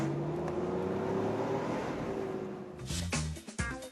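A right-hand-drive Nissan 300ZX drives on an obstacle course, a steady engine drone with a tonal hum that holds, then shifts with a few sharper bursts near the end.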